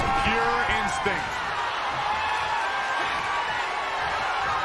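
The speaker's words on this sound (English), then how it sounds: "The roar of this crowd has been building, and they are at a fever pitch right now." An arena crowd at a WWE NXT wrestling show roars steadily throughout, a dense wall of noise with a few thuds and shouts near the start and a commentator's voice over it.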